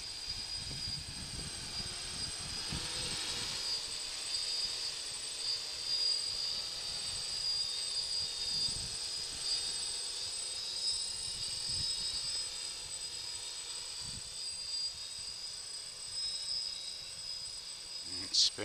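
A DJI F550 hexacopter drone flies with a steady high-pitched motor whine and rushing propeller hiss, sustained and fairly close, with wind-like noise buffeting underneath.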